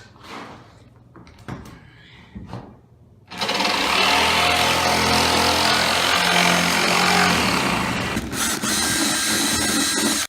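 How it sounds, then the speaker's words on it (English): A power saw cuts a piece of plywood for a lid over a chick brooder, first with a few knocks and short revving, then a loud, steady cutting whine for about five seconds that drops off briefly before resuming. "Just gonna cut a piece of plywood and put across and cut out 2 holes for the heat lamp."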